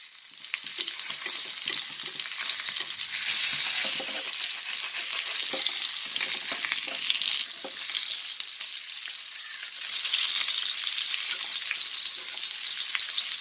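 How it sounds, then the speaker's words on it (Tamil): Sardines frying in a pan, a steady close hiss and crackle of hot oil running throughout with faint scraping now and then. "மீன் ரோஸ்ட் ஆகிட்டு திருப்பி போட்டுடலாம்."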